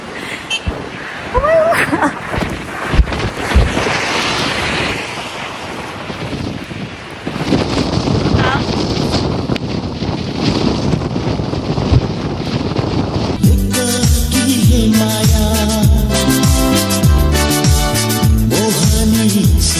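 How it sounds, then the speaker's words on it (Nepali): Strong wind roars and buffets the microphone in loud, gusty rushes on a paved road in Upper Mustang, then music takes over for the last several seconds. "हावा चाहिँ खत्रै चलिरहेछ।"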